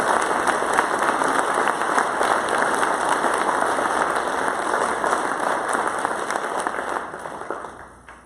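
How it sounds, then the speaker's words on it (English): Audience applause at a convention opening ceremony, dense sustained clapping from a large crowd that holds steady for several seconds and then tapers off at the end. "Let's have a round of applause for Steve."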